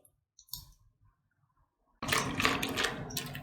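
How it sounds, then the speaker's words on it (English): Tap water runs steadily and fairly close for over a second as a blender cup is rinsed in a kitchen sink, after a few soft clicks and clinks. "I have washed the blender cup and I have added that water in as well."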